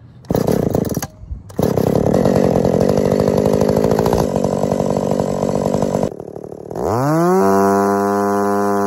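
A two-stroke chainsaw, being tuned while cutting wood, roars loudly at high revs with a short break, then drops back and slides down to a steady idle near the end; no talking.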